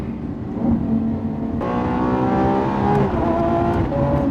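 Lamborghini Urus hybrid revving loudly from close by, with paddle-shifted gear changes heard as sudden steps in the engine note and rising pitch sweeps between them, continuous with no talk.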